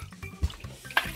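Water pours and splashes from the top of a spinning corkscrew water toy at an interactive science museum exhibit, with short close splashes and drips over a steady running-water wash.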